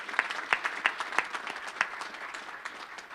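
Audience at a Madison Park Vocational High School and Painters Union announcement applauds, sustained clapping from a moderate crowd with a few sharp individual claps standing out, nearby and fairly steady over a short stretch.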